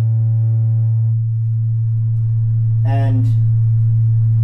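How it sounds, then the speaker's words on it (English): A pure sine wave tone holds steady and loud, unbroken throughout, while someone briefly speaks over it. "So a sine wave is only going to give you one frequency, and it's only going to give you one harmonic."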